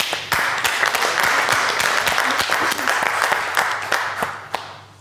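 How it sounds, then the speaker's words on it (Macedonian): A studio audience applauds contestants on a cooking competition show. The clapping is steady and dense, lasts about five seconds and fades slightly at the end. "Аплауз за вас."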